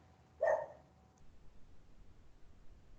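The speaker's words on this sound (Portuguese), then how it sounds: "Deixa eu calar a boca de um cachorro aqui." A dog gives a single short bark, sharp and moderately close, then only quiet room noise follows.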